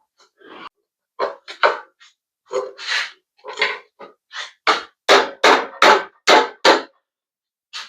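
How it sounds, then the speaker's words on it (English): Sharp metallic blows of a brass hammer striking a Briggs & Stratton engine flywheel over and over, irregular at first, then faster and harder, each impact close and ringing briefly. "I got my brass hammer I'm going to smack this with"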